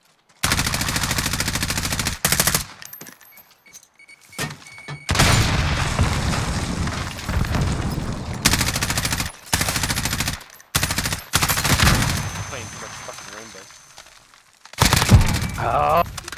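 Bursts of SMG fire crackle from a Call of Duty match, with several long sustained volleys separated by short gaps and a voice speaking between some of the bursts.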